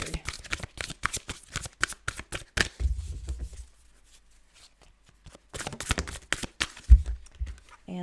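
Tarot cards are shuffled in quick, crisp riffling bursts, close and fairly loud, pausing for a couple of seconds before resuming, with a little soft talk alongside.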